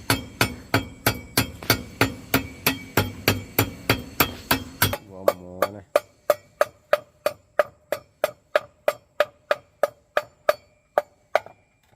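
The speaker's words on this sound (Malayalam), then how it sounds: "ഓട് പൊട്ടിക്കുന്നുണ്ട്" A hammer strikes clay roof tiles to break them, a long run of sharp, evenly spaced blows, close and loud, with some ringing clinks.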